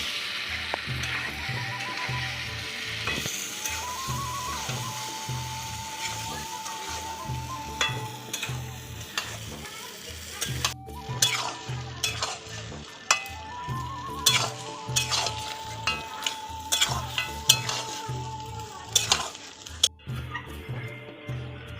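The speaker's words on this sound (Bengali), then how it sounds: "আমি এবার মাংসটাকে ভালো করে কষিয়ে নেব।" Chicken pieces sauté with a ground paste of cashew, chilli and chopped tomato in a pan for a village-style potato chicken curry, sizzling steadily while a spoon stirs and scrapes in repeated strokes, no talk.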